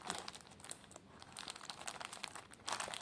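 Packaging crinkles and tears close up as a package is unboxed, with dense irregular rustling and crackling throughout and a louder burst near the end, with no talking.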